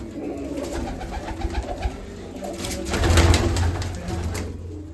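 Pigeons cooing nearby, soft repeated coos over a low background murmur, swelling louder midway through.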